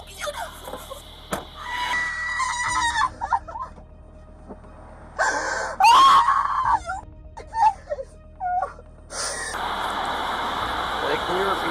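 A woman screams and wails during a roadside traffic stop, her high cries rising in bursts among agitated voices and car noise, with people talking throughout.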